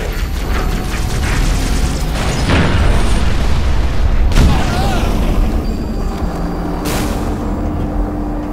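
An artillery barrage thunders in the Halo Reach Exodus campaign, with several heavy booms punching through a constant loud battle rumble and mechanical clatter while voices talk over the radio.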